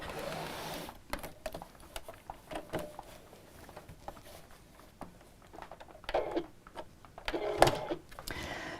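A sewing machine runs along the bottom three sides of a fabric pocket, a rapid, fairly quiet stitching patter with clicks and handling sounds, briefly louder near the end.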